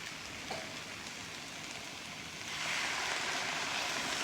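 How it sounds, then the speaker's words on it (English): Steady hissing sizzle in a hot, oil-free pan, growing louder and brighter partway through as noodle water hits the heat; no voices. "Can you hear the sizzle? So that was the noodle water going in there."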